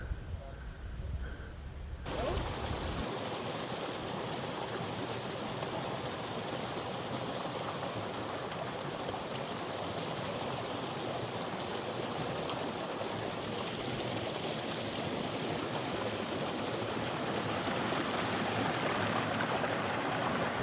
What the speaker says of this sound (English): I'm off the trail here just to video some waterfalls in the stream